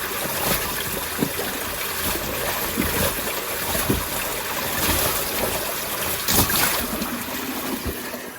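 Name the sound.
water splashing in a beaver dam culvert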